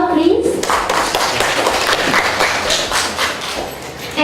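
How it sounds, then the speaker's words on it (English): Applause from an audience at an international conference session at Almuslim University, a dense patter of clapping that runs steadily through the clip, fairly close and loud, with a voice speaking at the start. "Give applause to her, please"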